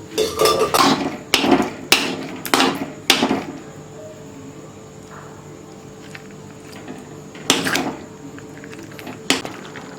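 A steel masher works lentils and bottle gourd in a cooking pot. Sharp metallic knocks come in a quick cluster of about five strikes, then two more after a quiet pause, each loud and close.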